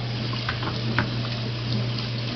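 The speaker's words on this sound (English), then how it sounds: "You got to completely rinse them in cold water" Cold tap water runs steadily over cooked pasta noodles being rinsed in a sink, a continuous even splashing with a low hum beneath and no voices.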